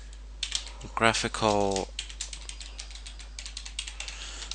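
Keystrokes on a computer keyboard clatter in a quick, irregular series of light clicks, with a short burst of speech near the start and the tapping continuing on its own afterward.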